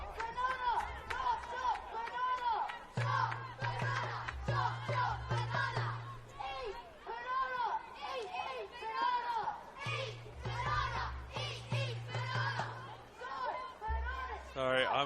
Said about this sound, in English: I'm a little bit distracted by the 8-year-old cheer squad